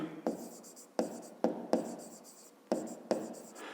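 A pen writes an equation on paper in a quiet room, giving a series of short scratchy strokes in irregular bursts, close and fairly soft.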